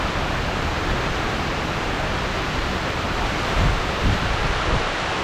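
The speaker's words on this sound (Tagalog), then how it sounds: "Grabe na ang hangin." Strong wind roars through a rainstorm in a steady, loud rush of noise, with a few low gusty thumps against the microphone near the end and no voices.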